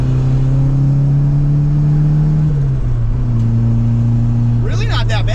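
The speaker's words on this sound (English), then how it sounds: "That's just the power steering." Power steering on a car with an untuned engine running only an FMU fuel pressure regulator, a loud low droning whine that holds steady, drops a step partway through and ends with a short burst of noise, close and inside the cabin.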